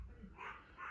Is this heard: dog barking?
yes